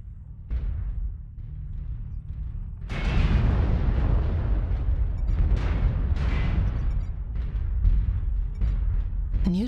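Artillery strike explosions in a video game, a rolling series of heavy booms and rumbles building into dense overlapping blasts over several seconds.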